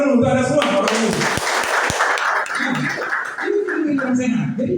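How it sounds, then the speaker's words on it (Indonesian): Audience at an Indonesian health seminar clapping briefly while a presenter keeps speaking loudly over it, the applause filling the first couple of seconds and then fading under the talk. "sekali lagi tepuk tangan dulu untuk Anda semua Bapak dan Ibu"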